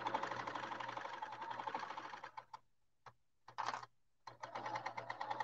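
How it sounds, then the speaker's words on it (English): Sewing machine stitching a monogrammed throw, a fast, steady mechanical whir that stops briefly twice, with short bursts in between before running on again, close and alone. "So let me see if I can sew a little faster and see what happens."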